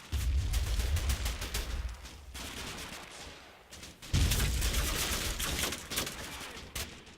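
Rapid gunfire and fusillades in a World War II battle in the Combat Mission Final Blitzkrieg game, with bursts of rifle and machine-gun fire crackling in dense clusters, loud and continuous with a brief lull midway.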